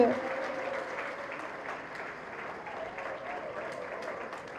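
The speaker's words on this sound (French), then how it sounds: "S'il vous plaît, acclamez pour le docteur et toute son équipe" Audience applauding for a doctor and his medical team at a public gathering: steady, dense clapping from a large crowd, starting loud and holding on evenly throughout.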